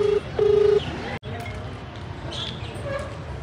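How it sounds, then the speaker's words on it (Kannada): A telephone ringback tone heard during a call, a short steady beep followed by a longer one, then a click and a stretch of background hiss with faint room noise. "ರಿಂಗ್ ಆಗ್ತಿದೆ."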